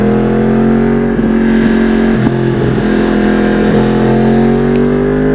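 A 2009 Yamaha R1 crossplane sportbike engine drones loud and close while riding through switchbacks, its steady throttle shifting slightly in pitch with brief dips as gears change.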